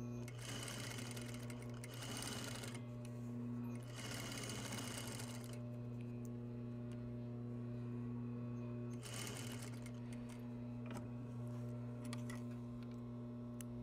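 A sewing machine runs steadily, stitching a bias strip along the bottom of a garment seam, its close mechanical drone continuing for most of the stretch with brief bursts of faster stitching.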